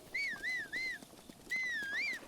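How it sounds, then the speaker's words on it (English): Link whistles in Zelda: Breath of the Wild, two clear, close, rising-and-falling whistled phrases separated by a short pause over faint background ambience. "Yeah, I just innocuously decided to whistle."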